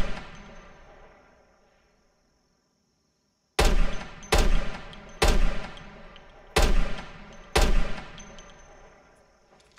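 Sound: gunshots in Project Zomboid video game

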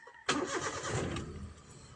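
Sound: Hyundai car engine starting

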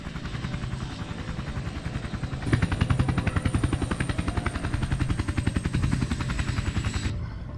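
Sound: helicopter in video game Sniper Ghost Warrior 2

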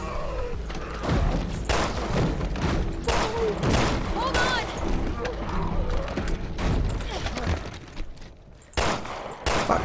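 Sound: gunshots in the video game Resident Evil Revelations 2

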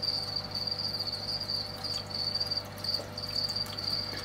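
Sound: crickets chirping in a breeding container

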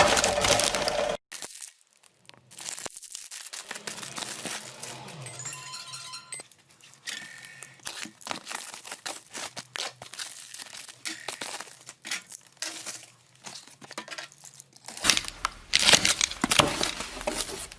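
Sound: unwrapping the package of a replacement toaster heating element

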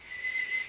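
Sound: whistling while breathing in

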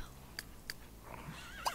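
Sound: horse neighing in The Sims 3 video game

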